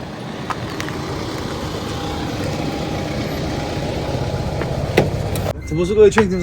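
A car pulls up and idles nearby with a steady low engine rumble, fairly loud and continuous, and voices come in near the end.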